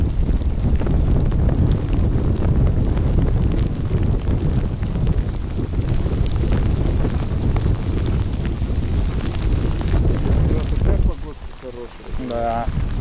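Wind and rain buffeting a small motorboat out on the water, a steady broadband roar of gusts and rain pattering the hull and mic, loud and constant, dropping off near the end as a voice briefly speaks.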